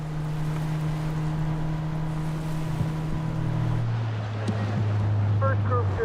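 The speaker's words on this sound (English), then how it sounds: "Today is your first ride in the Zodiac." Zodiac inflatable boat carrying passengers off Antarctica toward Paulet Island, its outboard motor droning steadily with a pitch drop midway, amid wind and water noise while people talk nearby.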